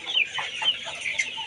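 Kazi Hisex Brown pullets, about 70 days old, cluck and chatter in a large flock on a farm, a busy, moderately loud layer of overlapping calls with no speech.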